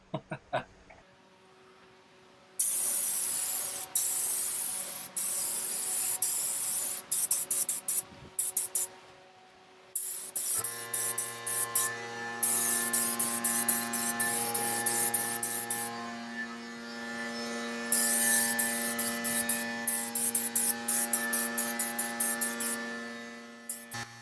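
A spray gun lays wet coats of car paint on a Scion tC in long, hissing bursts separated by short pauses, with a steady compressor hum running underneath.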